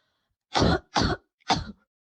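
Three short, harsh coughs from a COVID-19 patient in quick succession, close and clear, with silence before and after.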